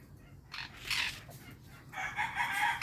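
Hens in a small aviary give short, faint clucking calls in a few separate bursts over quiet background noise.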